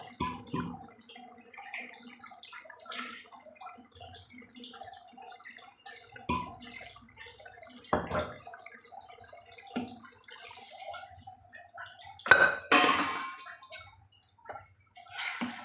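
Water splashes and trickles in uneven bursts, with clinks and sloshing close by, as water is poured into a pot of salna curry.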